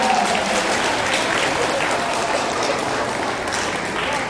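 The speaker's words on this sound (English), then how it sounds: "Give yourself a round of applause" Steady, dense applause from an audience at a fall debut concert, filling the space evenly from start to finish with no voices breaking through.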